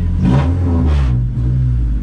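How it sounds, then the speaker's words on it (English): A GLTC race car engine revs hard twice in quick succession, loud and close, then settles into a rough, throbbing idle. "we are driving a GLTC car here. This thing is absolutely wild."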